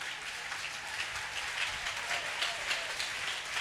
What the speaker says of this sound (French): Applaudissez plus fort que ça.